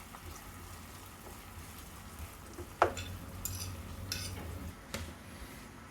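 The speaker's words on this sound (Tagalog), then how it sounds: "Tapos i-roll natin yung asparagus para hanggang maluto." Asparagus spears rolled around in a hot pan while cooking, giving a steady low sizzle with a few sharp utensil scrapes and clinks against the pan, close by and without speech.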